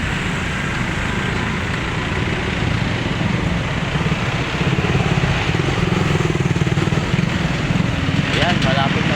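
A motorcycle weaving through city traffic toward a highway, its engine droning steadily under heavy street noise, with other vehicles rumbling nearby and a brief horn-like tone near the end.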